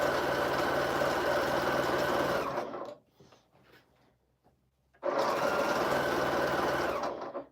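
A sewing machine runs with a steady loud whirring stitch, pauses for about two seconds of quiet clicks and handling, then whirs again; the bobbin is running low.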